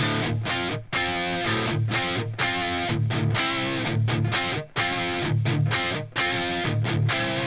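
A heavy, distorted electric guitar riff of chunky palm-muted chords, loud and driving, repeating in a steady rhythm with short gaps.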